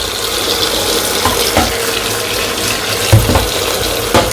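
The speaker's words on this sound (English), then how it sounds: "I'm just going to drain this my pasta, and you want to use cold water" Cold tap water runs steadily over pasta draining in a sink, a continuous close hiss and splash with a few brief knocks and clatters, no voices.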